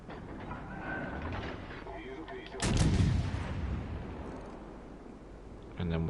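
Turret firing in a video game, a single heavy booming blast with a rumbling decay, under ongoing game noise and a voice talking.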